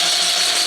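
A cylinder boring machine working on a 2-cylinder John Deere block runs its automatic feed, giving a steady close whirring buzz that holds unchanged.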